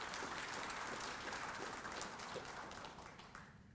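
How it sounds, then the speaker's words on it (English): Sustained applause from a convention audience at the FHRI Convention's 20th anniversary, a steady wash of many hands clapping that fades slightly toward the end. "Give yourselves all a round of applause."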